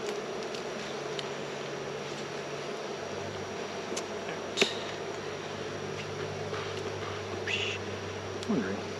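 Honeybees at an open hive during a beekeeping inspection, with a steady low drone of many bees close by and a few louder individual buzzes passing near.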